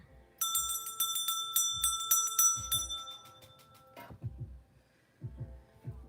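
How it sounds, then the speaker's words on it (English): A bright bell rings repeatedly for a few seconds, then fades into soft low thumping. "That bell felt good."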